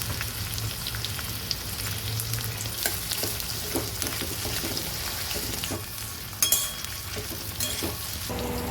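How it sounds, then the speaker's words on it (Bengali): Onions frying in oil with bay leaf and whole garam masala, a dense continuous close sizzle with a crackling, rain-like texture and occasional spatula scrapes, no voices. "তেলের মধ্যে তেজপাতা আর গোটা গরম মশলা, এবার পেঁয়াজগুলো ছেড়ে দিলাম।"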